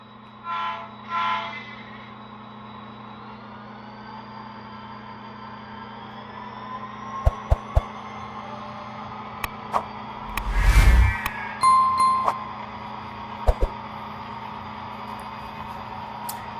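HO-scale model locomotive fitted with a Soundtraxx Economy sound decoder and current keeper, pulling a long train: a steady low engine drone with a few sharp clicks and a brief loud horn-like burst near the middle, no talk.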